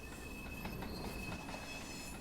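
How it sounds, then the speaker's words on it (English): An LMS Class 4F steam locomotive rumbles along the Peak Forest Line in Train Sim World 4, a steady low rolling drone with a thin high wheel squeal and faint rhythmic clanks, no talking. "This train is powered by an LMS Class 4F steam locomotive."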